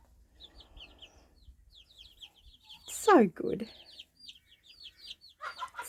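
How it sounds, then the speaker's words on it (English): A mother hen clucks low and soft to her chicks as she picks food out and drops it for them, while the chicks cheep in high rapid chirps throughout and someone speaks briefly. "Mummy hen's actually picking food out and dropping it on the ground for them."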